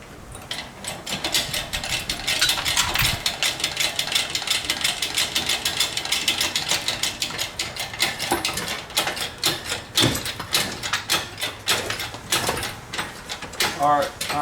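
Engine hoist and jack working to lift a BMW M52 engine out of a car, with continuous ratcheting and clanking mechanical clicks throughout, close and fairly loud, while people talk in the background.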